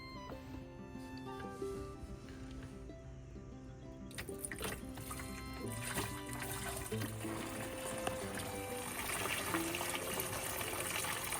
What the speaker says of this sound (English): So we've got the water reservoir filled all the way up to the top.